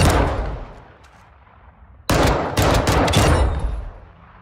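Pistol gunshots from Call of Duty: Modern Warfare II, a burst of loud, close shots starting midway and repeating in quick succession over a quieter game ambience.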